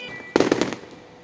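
Fireworks bursting in a night sky on the Fourth of July: a cluster of several sharp, loud crackling pops in quick succession, fading into a faint tail, with no voices.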